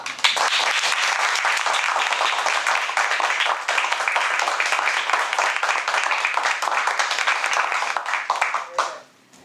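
An audience at a Toastmasters meeting claps steadily and loudly for several seconds, dense and sustained, then the applause fades out quickly at the end.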